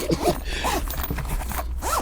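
The zipper of an AirPods Max Shield case being pulled open, heard as several short, close, gritty zipping strokes with no voice over them.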